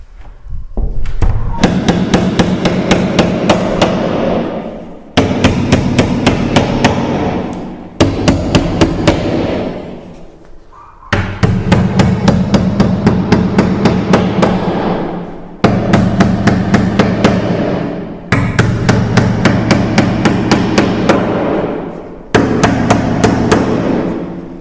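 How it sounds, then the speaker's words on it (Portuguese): A hammer drives a nail into wooden door-frame trim, struck in rapid bursts of evenly spaced, sharp blows separated by brief pauses, loud and close with no talking. "Cuida para bater o prego aqui certinho."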